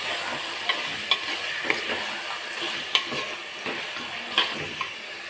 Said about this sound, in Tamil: சிக்கனை போட்டுக்கிறேன்.